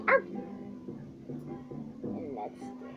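A person's voice imitates a dog barking and yipping for a dog stick puppet, with short, close, quiet vocal barks spread across a few seconds.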